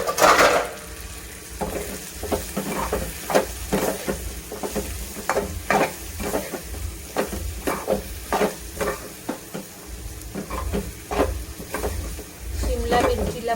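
Chopped capsicum with turmeric and homemade Agri Koli masala is stirred in a hot pan, a spatula scraping and clattering in a steady rhythm over a soft sizzle, close and moderately loud.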